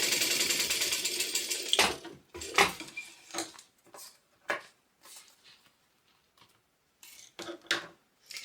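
Sewing machine stitching a pocket onto a small tote bag, a steady whirring run that breaks off into scattered clicks and knocks of fabric and parts being handled, close and quiet with no voices.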